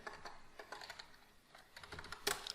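Typing on a computer keyboard while entering a PHP var_dump statement, a quick run of light, close key clicks in irregular bursts, ending in a louder cluster of strokes.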